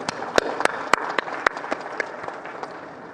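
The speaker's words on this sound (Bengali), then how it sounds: "আমরা তাদের জন্য একটা জোরে হাততালি দিই।" Audience applause at the Armed Forces Day reception at Senakunja, a burst of clapping with distinct sharp claps early that settles into a softer, thinning patter, moderately distant.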